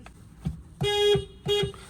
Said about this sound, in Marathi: हॉर्न कसा आहे पाहूया